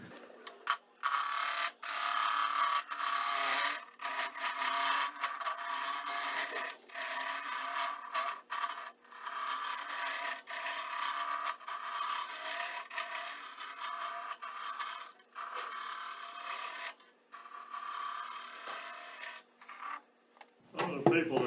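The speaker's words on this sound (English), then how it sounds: "This just roughing gouge, just get it down to round." A roughing gouge cuts a wood pepper mill blank round on a lathe, giving a continuous scraping, rasping hiss that is broken by short gaps as the tool lifts off, under steady motor hum.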